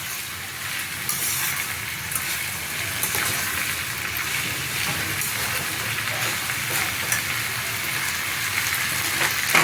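Vegetables for veg pulao are stirred and fried in a pan, a loud, steady hiss and sizzle with faint scraping, continuous throughout.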